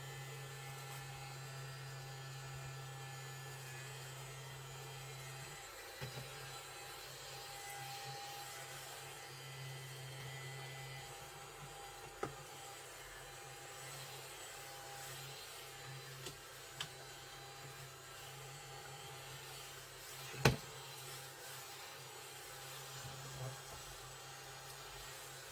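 A small vacuum cleaner runs steadily while sucking up ashes, a continuous low motor hum with a few faint clicks and one sharp knock, no talking.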